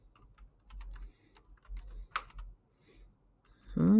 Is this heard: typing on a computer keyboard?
yes